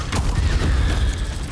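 An Incendio fire spell cast in Hogwarts Legacy bursts with a loud low whoosh and boom, a short fiery blast that rumbles and fades over about a second.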